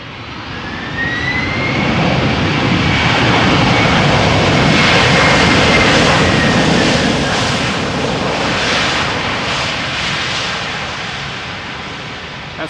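An airliner landing at Amsterdam Schiphol roars loudly with its thrust reversers deployed, a broad jet rumble that swells over several seconds and then slowly fades, with no voices present.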